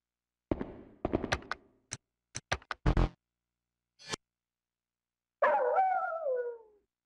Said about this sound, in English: if you leave Huey alone for too long, he'll just kind of start barking